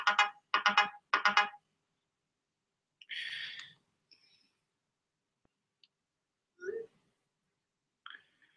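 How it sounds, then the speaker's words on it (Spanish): A telephone ringtone plays three quick loud bursts, then goes quiet with a few scattered faint beeps and clicks; no talking is heard. "Voy a poner a apagar los teléfonos acá."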